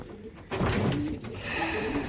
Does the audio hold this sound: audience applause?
no